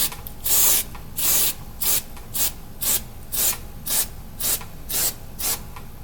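Lubricant is sprayed onto .223/5.56 rifle brass cases for reloading, in about a dozen short, evenly spaced hissing bursts, close and moderately loud, with nothing else heard.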